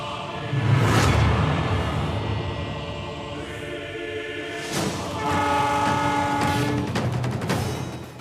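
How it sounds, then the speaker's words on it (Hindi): A train horn blares in long sustained blasts, loud and fairly near, with rumbling rail noise underneath. "ये रेलवे ट्रैक का सिग्नल है।"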